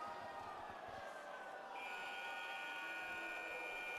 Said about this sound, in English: The buzzer goes.